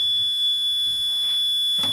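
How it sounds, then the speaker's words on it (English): A fire alarm panel sounds a fault signal after a smoke detector is removed: a faint, steady, continuous electronic tone that holds for the whole stretch, with no speech. "another fire alarm fault generated by the removal of a smoke detector"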